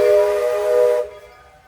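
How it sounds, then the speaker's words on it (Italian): A loud, steady hiss and whistle-like tone from an arriving train at an Epcot station in Disney World, Orlando, holding strongly then dropping off abruptly to quiet background. "sta arrivando il treno e quindi ci prepariamo a prendere il treno."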